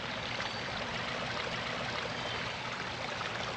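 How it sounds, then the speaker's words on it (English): A small waterfall spills over stones into a babbling brook, giving a close, steady rush of trickling water that stays even and unbroken throughout. "Such a subtle little babbling brook sound."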